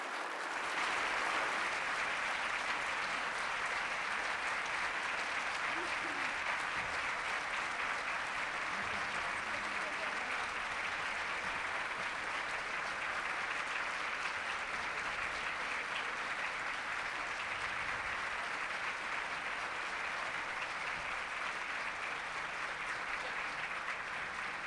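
Sustained audience applause at a national agricultural council general assembly in Mexico, a dense steady wash of clapping from a large crowd lasting the whole stretch without fading.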